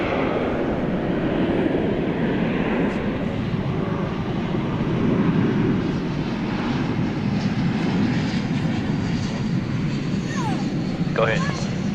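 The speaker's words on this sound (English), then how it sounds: "We'll break away from this to watch the arrival of Flight 2496, American Airlines from Portland, Oregon. It's an Airbus" An American Airlines Airbus A321 arriving at DFW at night gives a steady, broad jet roar that holds for the whole stretch, moderately loud and constant, with faint radio chatter and a voice under it.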